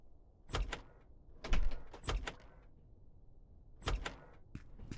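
A door opening in Trans-Siberian Railway Simulator, set in a Soviet-era train station: a series of short mechanical clanks and latch clicks in separate bursts, fairly close and moderately loud.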